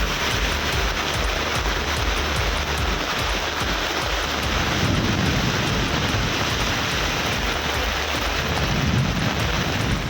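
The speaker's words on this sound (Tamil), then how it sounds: "1 மணி நேரத்திற்கு மேலாக இடி மின்னலுடன் மழை கொட்டி தீர்த்ததால்" Heavy rain pours down steadily during a thunderstorm with lightning, a dense continuous roar of rainfall with low rumbling thunder swelling underneath, loud and unbroken throughout.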